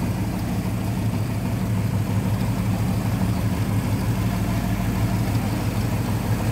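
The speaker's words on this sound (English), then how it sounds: "How smooth that runs." A 1959 Oldsmobile Dynamic 88 four-door flat top with a rebuilt engine idles smoothly, a steady low rumble that holds an even, unbroken tone throughout, heard close and alone.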